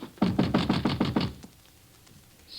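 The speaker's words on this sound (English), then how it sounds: "knock on the concierge's door" Knocking on a concierge's door at midnight: a quick run of about seven firm, evenly spaced knocks, close and clear, followed by near silence.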